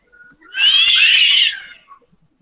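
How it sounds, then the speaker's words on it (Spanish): A single cat meows loudly and close, one drawn-out cry lasting about a second with a little faint noise before and after. "Se puede maullar más alto,"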